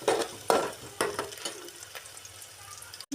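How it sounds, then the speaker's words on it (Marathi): Chopped onion drops into very hot oil with cumin in a home kitchen pan, crackling and sizzling close up with sharp bursts that settle into a softer fry. "मस्त तळू द्यायचा हा कांदा"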